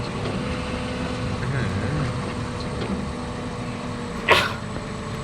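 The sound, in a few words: sneeze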